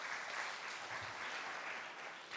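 Applause from a church congregation during a Telugu Christian sermon, a steady dense patter of many hands held at an even level throughout, fairly quiet and distant, with no voices over it.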